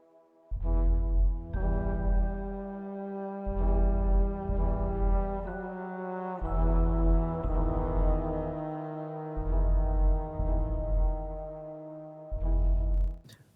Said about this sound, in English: I put an enhancer, exciter, which had a little bit of saturation and boosts the lows and the highs